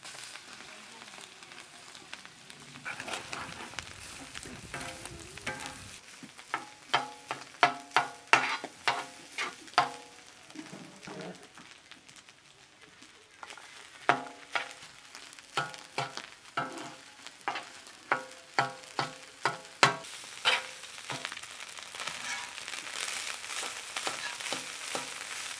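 Egg rice sizzles and fries on a hot tawa in a village outdoor kitchen, steady crackling with rhythmic metal scraping and stirring strokes repeating throughout, no talking.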